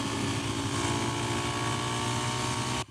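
A Kawasaki KLX300 dirt bike with no secondary throttle plate drones steadily at high revs on a test ride, a loud, continuous engine buzz that ends abruptly near the close.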